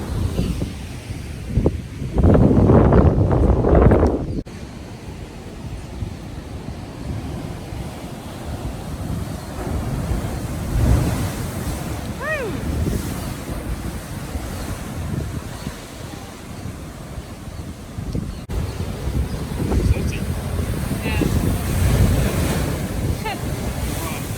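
Ocean surf rolls and washes onto a New Zealand beach beside a campsite at sunset, a steady roar with strong gusts of wind buffeting the microphone, loudest near the start.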